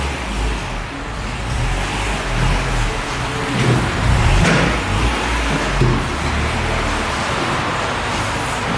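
Honda Civic Type R EK9 on a test drive, its engine and road noise steady and close throughout, swelling briefly mid-run as it pulls harder, with no talking.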